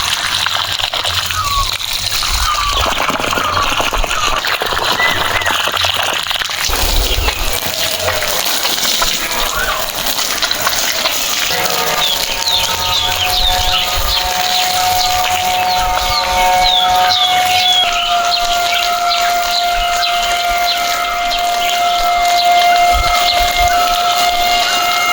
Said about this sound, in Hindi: अपने किचन गार्डन में हमने पानी दिया